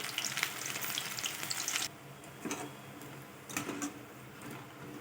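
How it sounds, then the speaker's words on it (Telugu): Meal maker pakodas frying in hot oil over a medium flame, a steady dense sizzle that drops abruptly to a quieter bubbling after about two seconds, with occasional brief flare-ups. "ఇప్పుడు మీడియంలో పెట్టుకొని మీడియం ఫ్లేమ్లో పెట్టుకొని వేయించుకోవాలి"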